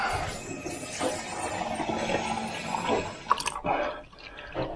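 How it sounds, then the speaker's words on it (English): Water is poured into the old washer jets removed from a third-generation Honda Jazz/Fit, giving a continuous splashing, trickling flow with a few louder drips near the end. "And we'll put a bit of water in them"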